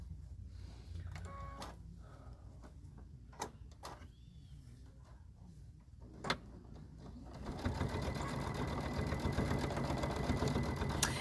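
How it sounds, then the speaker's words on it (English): A sewing machine stitches through a quilted hanging towel on its reverse side, starting with a few light clicks and knocks before settling at about 7.5 seconds into a loud, steady, continuous mechanical whir. "we are going to be stitching on the reverse side"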